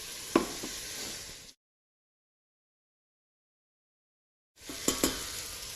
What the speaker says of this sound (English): just gently turn them over so that each side of the meat gets the same searing